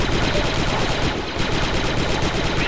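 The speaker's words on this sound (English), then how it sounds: "I need suppressing fire on those grenadiers." Rapid blaster fire in the Star Wars Republic Commando video game, a loud, fast repeating burst of shots in an even rhythm with barely a pause, close and dominant throughout.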